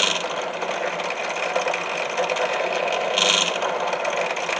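A drill bit boring stitching holes through leather for a cell phone holster, a steady loud whirring buzz with a slight rattle that holds continuously, close up and alone.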